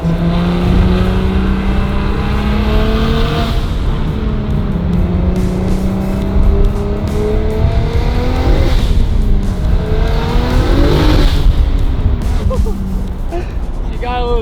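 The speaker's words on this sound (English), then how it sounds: "The car does have anti-lag, which sounds insane and definitely helps us out a bit because this turbo takes forever to spool" Turbocharged BMW 335i with a big turbo and anti-lag accelerating hard and sliding sideways, engine droning and rising in pitch through repeated pulls with squealing tires, loud and close throughout.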